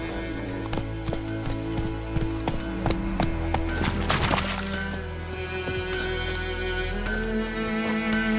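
Roach, a horse in The Witcher 3 Next Gen, gallops with steady rhythmic hoof clip-clops under a music score, moderately close and fairly quiet.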